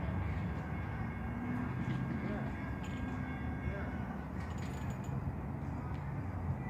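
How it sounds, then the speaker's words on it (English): An intermodal freight train rumbles nearby with a low, steady rolling drone, faint metallic clicks and squeals over it, growing slightly busier toward the end. "Q-046 is coming. It's an intermodal freight from Tampa."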